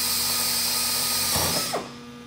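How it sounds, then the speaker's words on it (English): A power drill whines steadily at high speed while boring through sheet metal in an aviation shop class, then the bit breaks through and the motor spins down quickly. "I also need to make sure that I hold the drill straight up and down"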